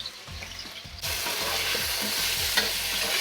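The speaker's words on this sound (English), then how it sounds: "So my wok is smoking. I'm gonna add about 2 tablespoons of oil. Gonna spread the oil around. And I'm just gonna drop in my wheat gluten." Wheat gluten hitting hot oil in a smoking wok, with soft clatter, then a sudden loud sizzle that stays steady and bright, broken by a few light utensil scrapes, with no talking.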